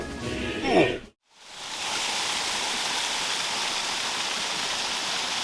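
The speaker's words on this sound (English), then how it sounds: "Now this is a waterfall, a primary feature of erosion." A waterfall pours in a steady broadband roar, loud and continuous after a brief breathy sound and a short gap of silence at the start.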